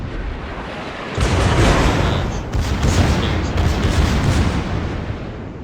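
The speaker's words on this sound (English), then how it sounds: "That's why I wait to fire the guns here" Battleship main guns firing a salvo in World of Warships, a heavy booming roar that starts abruptly after a second and sustains loudly with rumbling follow-up blasts throughout.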